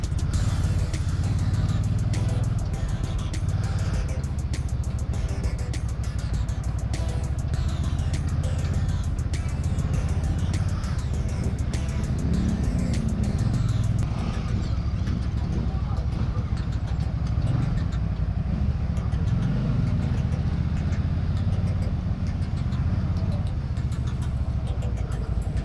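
An FKM Coolser 500cc cruiser motorcycle engine rumbles steadily through a test ride, with a loud, continuous low drone and wind noise underneath riders' voices talking.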